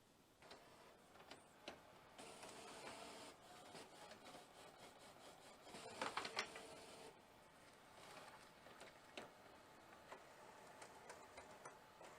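A sublimation printer (SG500/SG1000 model) runs a nozzle check print, giving a quiet stretch of mechanical whirring and rubbing with scattered ticks and clicks and a brief louder burst partway through, with no voices.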